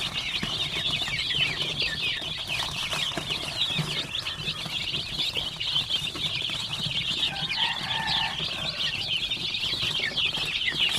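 Many Basilan native chicken chicks (RTL stock, about a week old, from an incubator) peeping and chirping continuously in a dense overlapping chorus, close by, with faint shuffling of wings and bodies and no talk.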